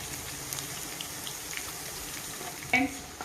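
Crushed garlic, dried red chillies and asafoetida fry in hot oil for a bitter gourd pickle tempering, giving a soft steady sizzle close by with a brief sharper crackle near the end.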